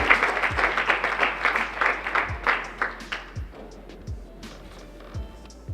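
An audience at a university challenge awards ceremony applauds the second runner-up, a burst of clapping that thins and fades over several seconds, with a few louder individual claps near the end.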